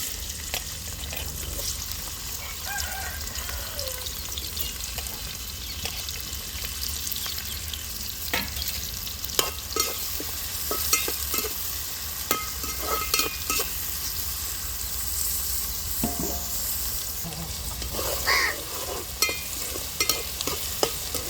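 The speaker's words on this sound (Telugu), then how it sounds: "ఆయిల్ కాగింది కదండి, ఉల్లిపాయ ముక్కలు వేస్తాం." Onion pieces frying in hot oil for a mushroom curry, a steady close sizzle with scattered stirring clinks and scrapes, no voices.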